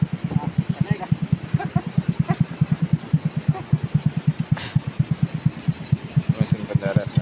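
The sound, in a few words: fishing boat hauling engine running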